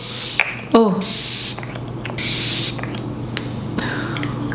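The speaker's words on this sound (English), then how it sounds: "I'm just going to go ahead and spray your face now." Two short bursts of makeup setting spray hissing onto a face, close and breathy, separated by a pause, with a brief vocal exclamation between them.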